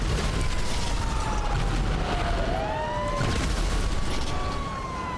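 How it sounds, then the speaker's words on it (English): Fire truck sirens wail in Grand Theft Auto Online, a steady rising and falling tone sweeping through a dense wash of city traffic and mechanical game noise, loud and continuous throughout. "I hear sirens, but I don't see them. Oh, fire truck!"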